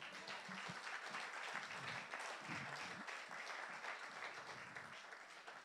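A church congregation applauds steadily throughout, a dense, loud wash of clapping with no gaps, gradually easing slightly toward the end.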